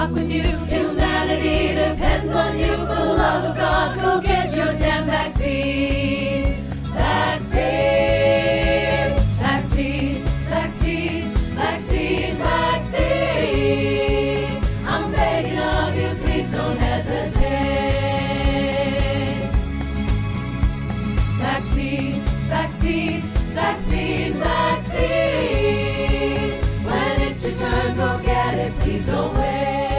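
A choir sings a parody of a song with full band backing; dense, steady choral singing and instruments fill the whole stretch at moderate level.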